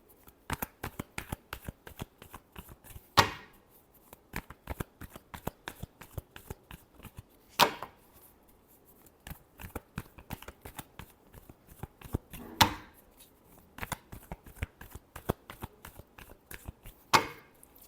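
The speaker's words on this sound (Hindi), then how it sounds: "Last shuffle." Tarot cards being shuffled in the hands, a steady run of soft riffling flicks broken by four sharp, louder bridge-style shuffles spaced roughly every four to five seconds, close and alone without talk.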